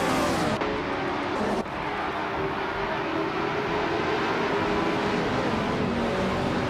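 Engines of 1965 Brabham BT7 race cars at the start of a race at Circuito Sagalices in a racing game, a steady, dense droning roar with slight pitch shifts as the cars accelerate together.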